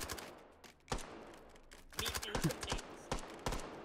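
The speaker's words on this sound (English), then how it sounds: "Oh, shooting through the stairs." Scattered gunshots fired through stairs in the VR shooter Hot Dogs, Horseshoes & Hand Grenades, sharp isolated cracks spaced irregularly, moderately close, with a voice talking over them.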